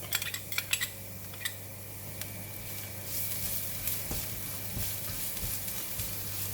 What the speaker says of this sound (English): Oil is getting hot. I'm putting in the garlic.